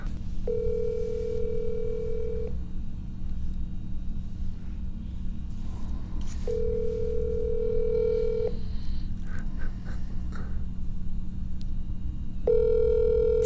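Ringback tone on an outgoing phone call that nobody answers, three long rings spaced evenly, each a steady electronic burr lasting about two seconds, clearly heard over a constant low rumble of a truck cab.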